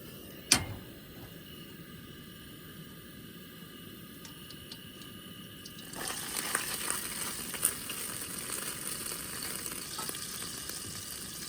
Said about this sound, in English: So I'm making some stir-fried rice